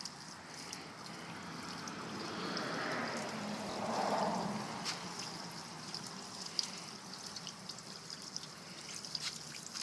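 A light, steady spray of rinse water runs over a 37-inch tire just treated with Armor All Extreme, a continuous soft hiss and trickle close by with no talking.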